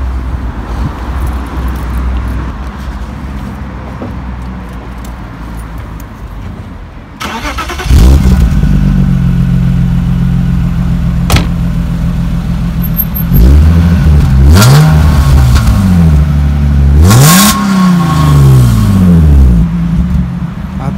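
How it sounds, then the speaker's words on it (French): A BMW E36 engine cranks and catches around the midpoint, then settles into a low idle with several sharp revs rising and falling, loud and close, after quieter background noise. "si tu veux bien la démarrer, je vais écouter le bruit qu'elle fait à l'arrière"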